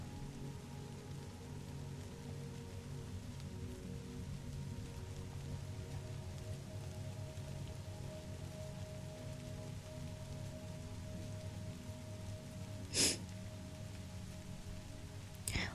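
Steady rain sound effect for a dark, spooky mood, a continuous even wash of falling drops and patter on a surface throughout, with one brief sharp click near the end.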